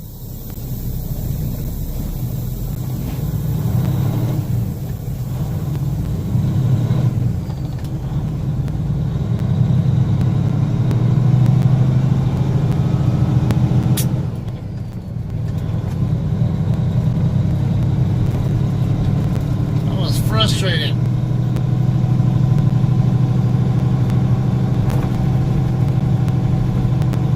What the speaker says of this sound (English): Couldn't get my truck to start for so long, and finally got it up.